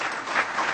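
Audience at a debate on Muslim-Christian friendship applauding, a brief burst of steady clapping from a crowd in a hall, no voices over it.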